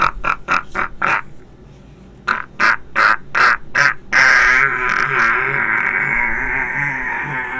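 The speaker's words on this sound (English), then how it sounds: "He was chattering his little beak" A bird squawks and chatters in a quick series of sharp, loud bursts, pauses, then lets out another run before settling into a sustained, noisy chattering call, close to the listener.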